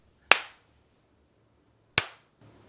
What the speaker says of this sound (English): I'm gonna clap and then you're gonna clap.